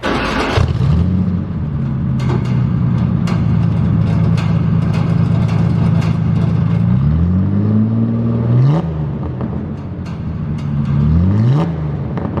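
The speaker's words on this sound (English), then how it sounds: "we'll fire it up. I'll give it a couple revs" A Ford Ranger with a custom exhaust stack and rain cap is started and revved while parked, giving a loud, close engine drone with rising and falling rev sweeps near the end, capped by the limiter around 3,000 RPM.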